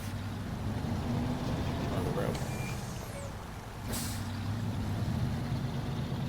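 Heavy truck engine droning steadily in SnowRunner while the truck backs out, with a brief hiss and a short high tone midway, under a voice talking.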